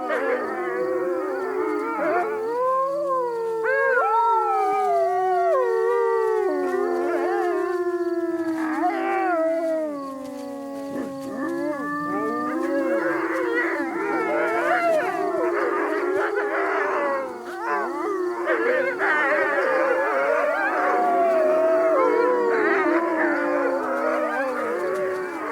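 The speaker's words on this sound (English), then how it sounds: "The wolves howl to make sure no other pack has already claimed this territory." A wolf pack in the Provence wilds howls in long, wavering, overlapping tones, several voices rising and falling together for the whole stretch, loud and close with no talk.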